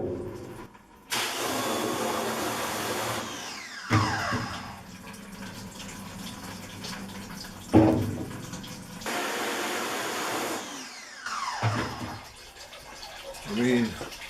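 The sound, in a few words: water rinsing screen printing emulsion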